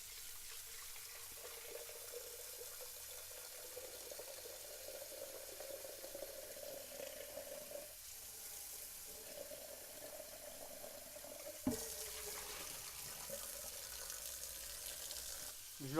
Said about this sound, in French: Je le rince un peu, il y avait de la poussière dedans.